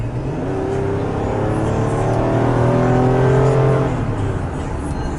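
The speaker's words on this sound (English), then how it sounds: "then I'm going to power up so you can see the acceleration" A 2012 Toyota RAV4 Limited AWD with a V6 engine accelerating from inside the cabin: a steady, rising engine drone that climbs in pitch over several seconds and then eases off, with road noise and no talking.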